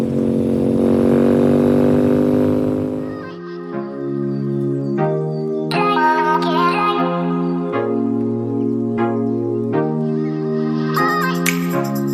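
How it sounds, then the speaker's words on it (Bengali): A Royal Enfield Super Meteor motorcycle on a highway ride from Kolkata to Digha. A steady engine drone sounds first, then the engine revs and shifts through gears, rising and falling in pitch with strong harmonics. No one speaks. "চলো আবার বাইকে উঠে শুরু করা যাক"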